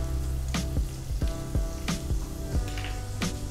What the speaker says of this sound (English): add our onions, our garlic that we've already pre-chopped